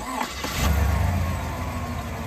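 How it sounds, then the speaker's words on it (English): Car engine started during a 12-volt battery cranking test: a short crank catches at once and settles into a steady low idle, close and fairly loud. "and then you can start the engine."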